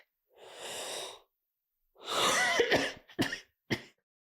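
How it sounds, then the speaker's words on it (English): One person takes a long, audible deep breath, then after a pause gives a breathy exhale and a few short, sharp coughs, close and clear in a quiet room with no talking. "That sounded a lot like an activation confirmation cough"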